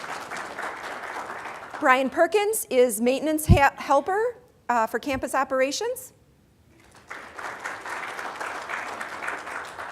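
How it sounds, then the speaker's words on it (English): Audience applause in a college auditorium during staff introductions, a steady spread of claps that swells before and after someone speaks over the room, then fades briefly and returns. "Yes, we'll clap."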